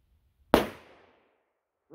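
A single sharp crack from a .30 rimfire Marlin pistol firing 3D printed bullets, close and loud, fading quickly in a short echo, followed by near silence.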